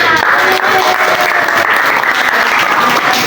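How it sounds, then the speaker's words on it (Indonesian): A classroom audience at a Christian religious education teacher-training session bursts into loud, close, continuous applause that stays full and even from start to finish. "tepuk tangan"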